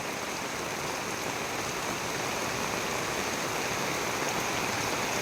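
Fast floodwater rushes past a nearly submerged bridge near a home, a steady, loud, unbroken roar of churning water with no voices.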